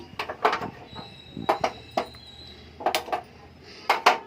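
A metal bowl is set down on a stove with several sharp clanks and scrapes in short clusters, close and fairly loud, with quiet gaps between.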